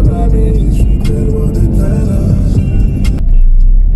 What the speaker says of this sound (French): Ma voiture fait un drôle de bruit.